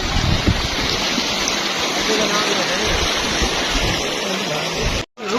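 Floodwater rushes steadily over a road broken by the flood on the Aaklpur road toward Fazilpur, a loud, constant roar close by that runs unbroken until a brief drop near the end.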